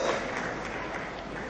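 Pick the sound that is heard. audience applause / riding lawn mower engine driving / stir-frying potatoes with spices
audience applause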